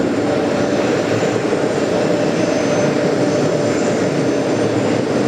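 A jet airliner roars loudly and steadily at JFK airport, a constant broadband engine rumble that fills the whole clip without letting up, with no voices.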